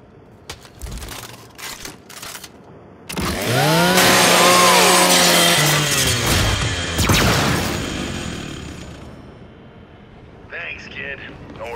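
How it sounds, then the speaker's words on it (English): Lancer rifle chainsaw from Gears 5 grinding through a custodial robot unit, a loud sustained whining buzz with rising and falling pitch lasting several seconds, preceded by brief clanks and trailing off into quieter game sounds. "Just use your Lancer's chainsaw."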